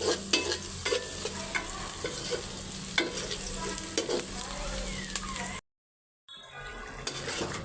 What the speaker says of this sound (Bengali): এই যে পেঁয়াজ কষাই নিতেছি